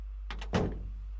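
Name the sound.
door closing in the video game Steins;Gate 0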